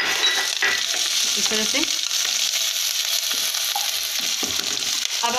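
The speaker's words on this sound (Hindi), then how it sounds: "अब इसमें मैं थोड़ी सी अदरक हरा मिर्चा का पेस्ट डाल रही हूँ जो मैंने लिया था, अब इसे हम फ्राई करेंगे" Ginger and green chili paste fries with onions for biryani, giving a dense, close sizzle with stirring noises, and a voice briefly speaks near the start.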